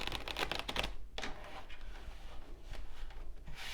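Tarot cards shuffled by hand close up, a quick burst of crisp riffling clicks followed by a steady papery rustle of the deck that carries on for a few seconds.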